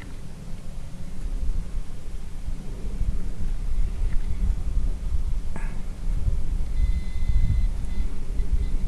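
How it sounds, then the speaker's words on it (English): Wind buffets a handheld camera inside a car, a steady low rumbling roar throughout with a few faint clicks and a brief tone near the end, no talking. "trying to keep the wind out the camera handheld again"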